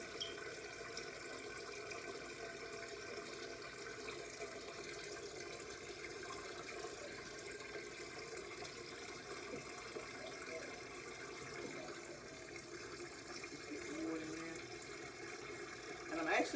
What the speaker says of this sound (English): I'm going to rinse them off really good